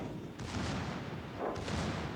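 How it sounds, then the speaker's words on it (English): Heavy naval guns of the battleship Warspite firing in World of Warships, two deep booming salvos about a second apart, loud and rumbling with no talk. "And then we're going to turn and get these rear turrets on."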